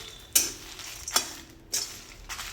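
Whole spices, including bay leaf, dry-roast over low heat in a kadai, heard as a quiet background hiss broken by three or four crisp scraping strokes of a spoon against the metal.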